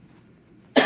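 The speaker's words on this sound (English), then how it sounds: "just got a little bit of a cough" A single sharp cough bursts out loud and close after a stretch of near-silent room tone, stifled and brief, ending the moment.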